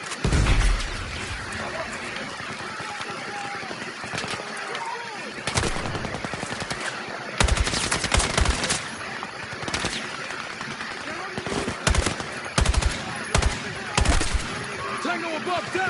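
Gunfire in a Battlefield 6 campaign firefight: dense automatic bursts and sharp single shots crack repeatedly over a constant loud battle din, close and intense, with occasional shouted voices mixed in.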